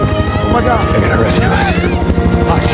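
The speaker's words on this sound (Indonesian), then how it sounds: "Helikopter pun akhirnya sampai di lokasi kejadian." A helicopter arrives over water at the site of a plane crash in a shark film. A loud, steady rotor chop pulses throughout, mixed with other film sound.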